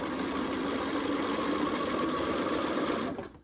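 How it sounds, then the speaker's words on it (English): A sewing machine runs a quarter-inch seam in one continuous, even whir that stops abruptly at the end, close and alone. "I'm going to lower my presser foot, and I'm going to sew"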